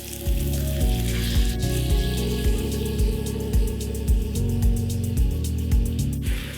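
Wine hisses and sizzles steadily in a hot pan with seared chicken thighs, with rhythmic stirring scrapes repeating throughout.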